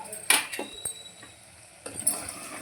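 A spoon stirs ground masala into mutton bone soup in a pan, giving two bursts of scraping and clinking about two seconds apart, with a soft sizzle in between. The sound is close and moderately quiet, with no talking.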